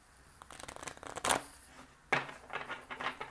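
Oracle cards being shuffled close by in a couple of quick papery riffling bursts, with soft handling noises between them.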